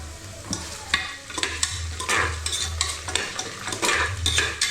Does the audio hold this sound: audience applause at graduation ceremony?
no